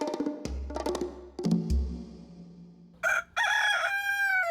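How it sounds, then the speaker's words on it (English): A rooster crows loudly nearby, a rising drawn-out call following a few short clucks and thumps. "So this is Dude, our rooster."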